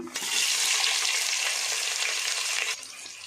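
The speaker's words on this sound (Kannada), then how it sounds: "ಇದನ್ನು ಸ್ವಲ್ಪ ಕೆಂಪಗಾಗೋವರೆಗೂ ಫ್ರೈ ಮಾಡ್ಕೋಬೇಕು." Onions frying in oil with cinnamon, cardamom and cloves for a soya vegetable biryani, a loud, close, hissing sizzle that starts abruptly and drops away near the end.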